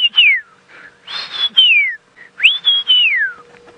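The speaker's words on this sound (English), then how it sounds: "in the background, the white whistling duck" Three clear, high whistled calls of a white whistling duck, each sliding downward in pitch, come in quick succession with short pauses between them and no talking.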